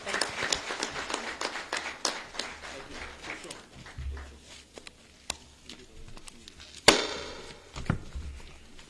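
Scattered, uneven clapping from an audience at an MDC political launch rally. It is fairly busy at first, thins out midway, then comes a few sharp louder claps, with faint voices in the background.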